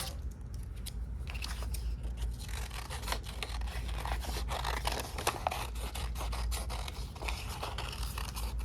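Scissors cutting out a paper vase drawing, a steady run of soft crisp snips and paper rustling, close and quiet with no talk.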